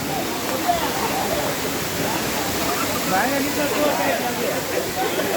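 Water pours from a pond at the Kileshwar Mahadev temple in Barda hills near Bhanvad, a steady rushing hiss with voices talking faintly over it.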